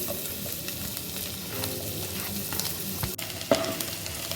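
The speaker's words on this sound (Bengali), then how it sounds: "এবার দেখো আমি বাটারের মধ্যে রসুনগুলোকে একটুখানি ফ্রাই হবে" Chopped garlic fries in butter in a pan for butter garlic chicken, giving a soft, continuous sizzle with a few stirring scrapes and light clicks near the end, and no talking.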